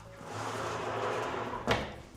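A wooden barn door on an off-grid Portuguese farmhouse rolls along its track with a steady, rumbling slide, then stops with a short knock close by.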